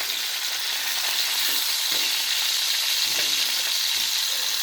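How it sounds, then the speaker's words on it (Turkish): Four lamb shanks sear in a hot oiled pan for Ankara tava, giving a constant bright sizzle and crackle with a few soft knocks as the meat is turned. "Bu şekilde çevirerek 4 tane inciğimi kızartıyorum."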